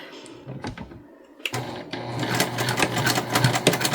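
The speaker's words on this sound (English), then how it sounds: "we are stitching this bag together" A sewing machine stitches a cotton tote bag: a quiet start with a couple of clicks, then from about halfway a fast, steady mechanical whirring run of stitches close up, no talk over it.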